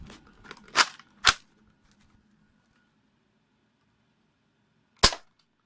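An Xplorer Retaliator toy bow shoots purple foam arrows: two sharp snapping releases close together, then a pause and a third loud snap, with faint clicks of handling between.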